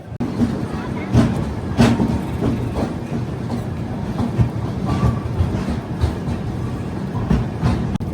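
The Rayalaseema Superfast Express, heard from inside, rumbles and clatters steadily as it runs out of Renigunta Junction. The wheels give a rhythmic clickety-clack over the rails throughout, loud and continuous.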